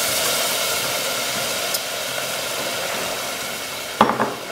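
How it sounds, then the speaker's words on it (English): Loud, continuous hiss of a hot pan sizzling while broth is added little by little for Mexican mole, with a brief scrape or clatter near the end. "the pan sizzling, it's nice and hot"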